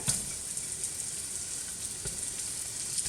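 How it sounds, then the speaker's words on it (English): Flour-dusted lamb pieces frying in a pan for a spicy Indian lamb stew, giving a steady, close, even sizzle with faint pops and no voices. "I'm going to add my lamb that I put a little flour on it"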